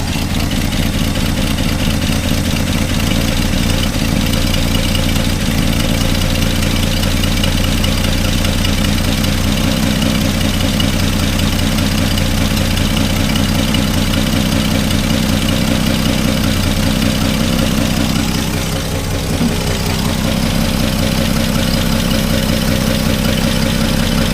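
An abandoned 1962 Plymouth Valiant engine idles with an exhaust leak, giving a loud, close, steady rumble with a rough, tractor-like chuff. It runs unbroken for the whole stretch.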